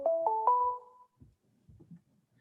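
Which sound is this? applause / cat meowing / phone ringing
phone ringing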